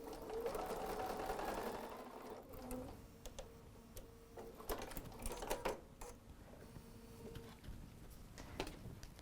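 A sewing machine stitches a fabric face mask in short bursts of rapid mechanical whirring, separated by brief pauses and small clicks, quiet and close.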